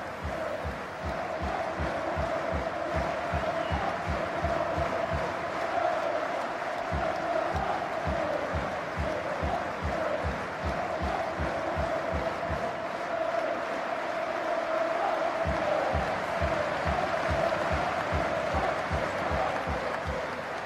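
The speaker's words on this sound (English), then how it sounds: "the minute's applause in memory of Sir Bobby Robson held across the country was even more poignant here" Football crowd gives a sustained minute's applause in memory of Sir Bobby Robson, dense rhythmic clapping from a large stadium audience, steady and moderately loud throughout.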